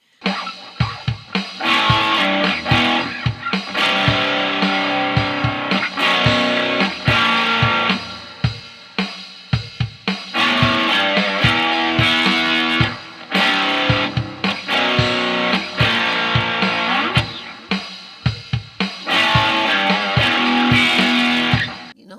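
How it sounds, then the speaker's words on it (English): Electric guitar played in repeated strummed phrases through a digital reverb pedal, chords ringing out with a lingering wash between bursts, loud and close, no voices. "here's, a digital reverb"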